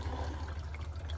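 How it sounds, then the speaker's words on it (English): A hydroponic planter's water pump runs with water flowing and gurgling through the tubing, a steady low hum under soft liquid splashing, close and continuous. "Make sure your air bleed valve is closed and turn on your pump."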